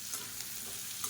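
Garlic cloves and a small piece of ginger frying in a pan, a soft steady sizzle with light stirring scrapes, quiet and close throughout.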